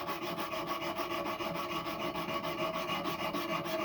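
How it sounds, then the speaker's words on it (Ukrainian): A knife blade being sanded by hand with sandpaper before polishing, a close, rhythmic rasping of quick back-and-forth strokes repeating steadily, no talking. "пройтися клиночок наждачкою, наждачним папером, його підготувати до шліфування"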